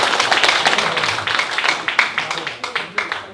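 An audience applauds after a lecture at a special Gaecheonjeol (National Foundation Day) talk, with dense clapping that gradually thins into scattered claps as a voice talks over it.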